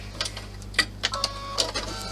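Embroidery machine working on a 6x10 clutch design, producing a run of quick mechanical clacks and whirring pulses over a steady low hum, close and moderately loud.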